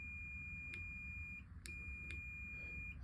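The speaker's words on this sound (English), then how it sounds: "If the downwards motion goes all the way down and you hear a long" The Concens C3 actuator controller on a Topro Taurus E walker gives a long, steady electronic beep at the end of its height travel, with a few faint clicks over a low background hum and no voices.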